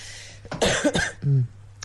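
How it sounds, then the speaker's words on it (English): A couple of short, harsh coughs close by, followed by a throat-clearing rasp, with the low steady hum of a running fan underneath. "sorry for my cough."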